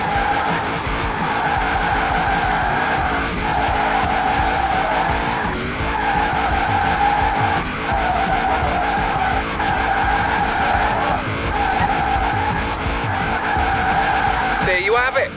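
Tires skid and squeal continuously as a car drifts in the Forza Horizon 4 racing game, engine droning steadily underneath with repeated swells of screeching, while a voice talks over much of it.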